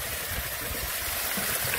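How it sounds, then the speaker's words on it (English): A backyard drain pipe gushes water, roughly 60 gallons pouring out in a loud, steady, broadband rush with some gurgling, continuous and close throughout with no talk. "Just big time moving water"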